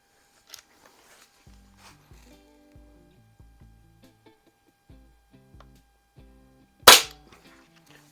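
Crosman 3622 air pistol firing once, a single sharp crack near the end, preceded by soft clicks and faint beeping tones from a chronograph in a quiet room.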